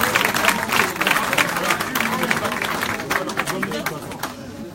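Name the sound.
stadium crowd applauding the team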